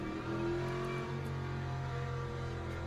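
A Ford Mustang race car in the Le Mans video game holds a steady, loud engine drone with a sustained rev on an out lap, heard alone without talk.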